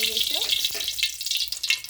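Hot refined oil sizzles and crackles steadily up close in a hot wok, with a brief voice heard faintly at the start.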